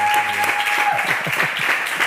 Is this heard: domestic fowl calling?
no